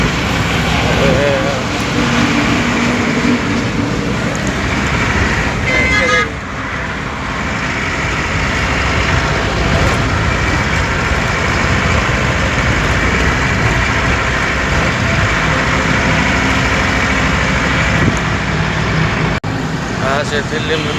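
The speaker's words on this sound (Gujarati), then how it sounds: "હવે દિલ્હી મુંબઈ એક્સપ્રેસ ઉપર આવી ગયા છીએ" A car drives along the Delhi-Mumbai Expressway, a steady loud roar of engine and road noise from inside the cabin throughout, with a brief dip partway and no clear talk over it.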